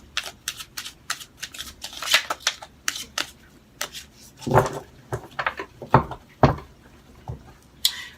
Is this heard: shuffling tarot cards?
yes